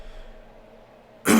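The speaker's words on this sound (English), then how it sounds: "I apologize for all the coughing." A single loud, abrupt throat clear or cough bursts out near the end after a quiet, near-silent stretch, close to the microphone.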